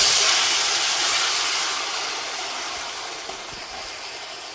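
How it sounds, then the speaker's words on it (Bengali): Panch phoron spices and pumpkin ghonto sizzle in hot oil with a loud, broad hiss that fades slowly as the frying settles. No voices are heard. "পাঁচ ফোড়নটা তেলে দিয়ে দিচ্ছি এবার ঘন্টটা ঢেলে"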